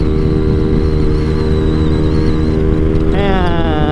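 Honda Vario scooter and motorcycle engines droning steadily up close during a road race, with a rising whine joining near the end and a voice speaking over the engine noise.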